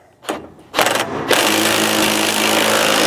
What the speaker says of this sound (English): then I'll run my socket out here on an impact